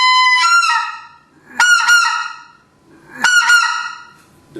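A Riceland specklebelly goose call blown by hand, giving three bursts of the basic two-note honk, each a sharp yelping pair of notes with clear pauses between, close and loud with no talking.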